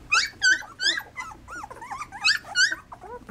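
A dog being petted and rubbed gives repeated whimpers, whines and low growls, close and fairly loud, in a steady series of short vocal bursts.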